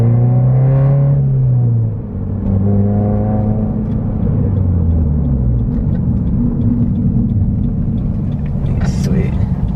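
Slammed Subaru BRZ with a six-speed pulling hard on a back road, engine note rising and dropping through several gear changes, loud and close from inside the cabin, with a voice talking over it.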